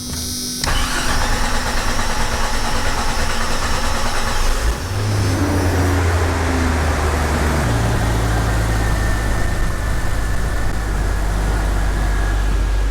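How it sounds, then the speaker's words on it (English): A Jeep Cherokee fitted with new 12-hole fuel injectors cranks, catches and settles into a loud, steady idle close by, running continuously with no voices. "let's fire it up, get the computer reset, and see how it adjusts to the new 12-hole injectors"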